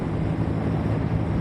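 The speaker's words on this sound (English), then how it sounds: "it's really windy today" Strong wind rushing steadily across a motorcycle rider's helmet outdoors, a dense continuous low roar without pauses and no voices.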